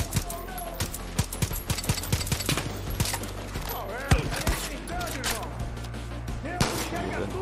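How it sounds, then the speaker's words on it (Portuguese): Gunfire in the video game Far Cry 5 cracks out in scattered single shots and short bursts, some near and loud, mixed with a steady game hum while people talk over it. "Tiro de algum canto."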